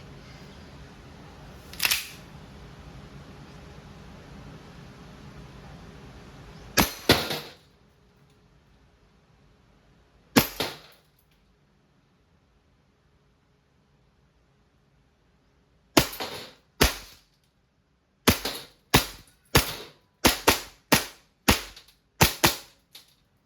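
A WE 2011 Hi-Capa 5.1 Type R gas blowback airsoft pistol firing: a few spaced sharp cracks with slide clacks, then a rapid string of about a dozen crisp shots, close and loud against a quiet background.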